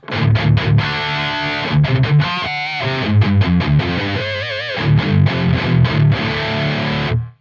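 A distorted electric guitar plays heavy, chugging rhythm chords through a high-gain SLO amp, with short pauses between palm-muted bursts and sustained chords.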